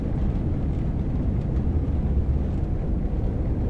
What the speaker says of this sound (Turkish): otobüslerin içine böyle bir titreşim sesi olur. Tıkır tıkır tıkır tıkır bir şeyler ses yapar.